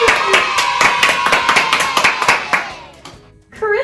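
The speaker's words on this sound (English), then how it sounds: "Give yourselves a big round of applause." Young children at a Little Mavs program clap for themselves after their first week, a fairly close burst of uneven hand claps that fades out, followed by a voice speaking.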